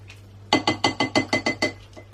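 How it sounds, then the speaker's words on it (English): A spatula knocks and scrapes around a mixing bowl of cupcake batter, eight crisp, evenly spaced clinks sounding close and loud in quick succession. "just scrape down the sides of your bowl."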